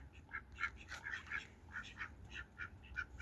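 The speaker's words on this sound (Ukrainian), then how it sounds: "Гребінцеві качечки качечки з коронами" Crested ducks quack repeatedly in quick, uneven bursts, fairly close, with no talking and a low background rumble.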